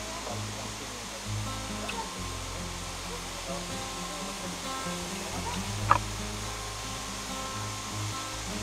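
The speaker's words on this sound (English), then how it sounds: "Ooh, look at this waterfall." A waterfall in a Puerto Rico rain forest gives off a steady, broad rushing hiss, soft and distant, with a low hum and a brief sharp knock partway through.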